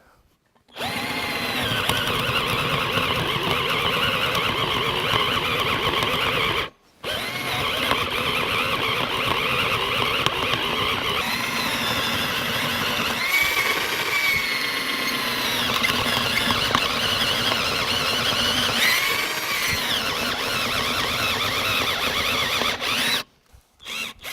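A cheap Genesis cordless drill boring steadily under heavy load, a loud continuous whining motor with squealing overtones, running about six seconds, pausing briefly, then grinding on for another long stretch before stopping.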